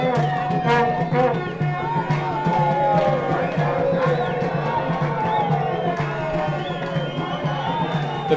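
Spectators at a Nchanga Rangers versus ZESCO football match in Zambia cheer and roar as a broad crowd wash beneath a commentator talking over it throughout.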